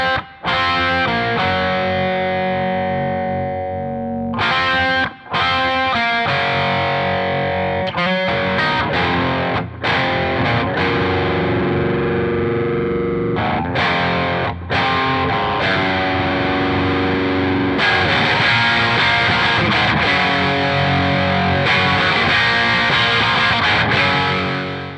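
An electric guitar played through a pedalboard, with the gain rolled back on the volume knob and extra reverb, rings out in loud, sustained chords and ringing notes for twenty-five seconds.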